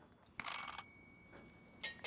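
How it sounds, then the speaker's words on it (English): Phone in a horror video game ringing: a short burst of high, tonal ringing, then a fainter second ring near the end, with no talk over it. "press the red button and it'll ring"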